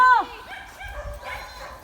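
A small dog gives a short high yelp followed by faint whimpering sounds, fairly close.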